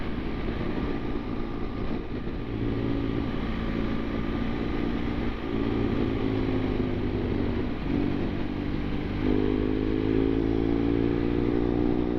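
Motorbike engine droning steadily while riding the A591 road from Ambleside through the Lake District, with rising and falling gear pitches, wind rush and a shift upward near the end; no talking.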